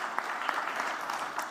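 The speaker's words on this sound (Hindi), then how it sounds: "जोरदार तालियों के साथ स्वागत" Brief, fairly faint applause from an audience at a multilingual poetry gathering, a short burst of clapping welcoming a poet to the stage, with no voices over it.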